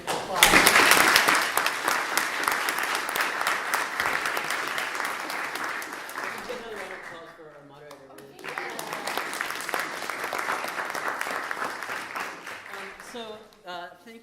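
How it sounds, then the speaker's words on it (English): An audience applauds a debate panel at a university debate event, a dense sustained round of clapping that swells at the start, dips briefly midway, then picks up again before fading. "let's give the panel a wonderful applause."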